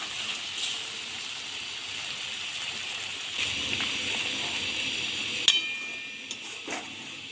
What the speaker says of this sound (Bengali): এবার আমি 1 কাপ মতো জল দিয়ে দিলাম।